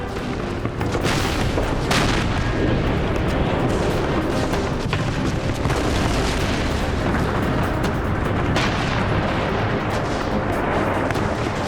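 An artillery battery firing cannons in a war film set in 1812–1815: dense, continuous booming and rumbling blasts overlapping into a loud, sustained barrage with no clear pauses.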